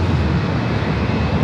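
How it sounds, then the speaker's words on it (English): An American Airlines A321 airliner taxiing toward runway 27, a loud steady broadband jet engine roar with a low rumble, continuous and without talk. "American A321 now making its way over to 27."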